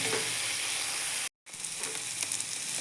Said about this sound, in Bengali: মশলা থেকে তেল ছেড়ে দিয়েছে, মোটামুটি আমার সাঁতলানো হয়ে গেছে